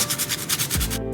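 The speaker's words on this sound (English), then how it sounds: "We're gonna start the sanding process." Bondo body filler on a car spoiler being sanded with 80-grit paper, a brisk rhythmic rasping of repeated short strokes, close and loud, ending in a brief scrape.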